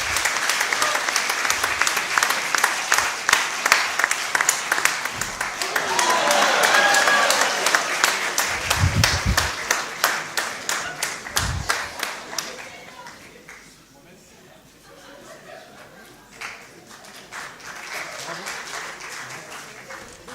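Loud, dense applause from an audience at the closing ceremony of a film festival, rapid clapping filling the first dozen seconds before thinning into scattered claps and fading lower, with a voice speaking over parts of it.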